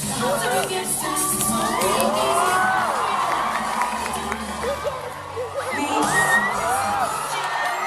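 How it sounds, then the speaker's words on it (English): Fans at a Steven Universe screening cheering and shrieking at the Yellow Diamond reveal, a dense excited crowd roar with whoops and high screams rising and falling over the show's audio. "hearing all of the fans cheering and freaking out at this reveal"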